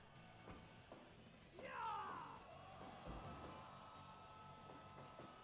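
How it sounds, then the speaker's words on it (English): A wrestler named Jin lets out a loud scream while hitting the Gourd Buster move in the Fire Pro Wrestling World video game, one rising yell over a background of game crowd noise and thuds. "Good scream there from Jin as he hit the Gourd Buster"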